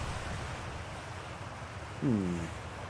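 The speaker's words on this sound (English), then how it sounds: "Oh, that's one of the geysers. Okay. Yeah, water comes out of it." A geyser erupting in the video game Outer Wilds gives a continuous broad rushing roar like surf or wind, steady and fairly loud, with a short tonal sound rising briefly near the end.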